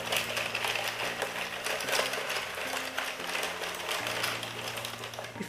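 An Addi Express knitting machine runs steadily with a continuous mechanical clatter and rhythmic hum, close and fairly loud, with no talking.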